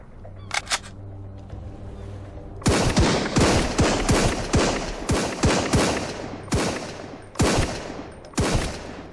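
Gunfire in the Sunkenland survival game: a few distant shots, then a rapid string of loud, close bursts rattling in an uneven rhythm with brief gaps between volleys.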